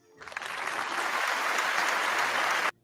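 Studio audience bursts into steady, full applause that swells quickly, holds loud and dense, then cuts off abruptly.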